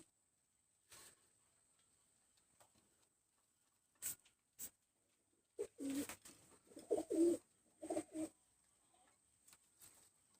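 A pair of chuha pigeons coos in short, soft bursts, a few low murmuring calls clustered together against a quiet background with faint clicks.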